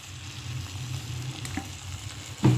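Oil heating in a cooking pot gives a low, even sizzle with a faint hum, close and steady, ending in a brief louder burst.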